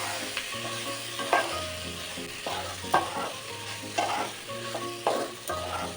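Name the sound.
stirring fried soybeans with spices in a pan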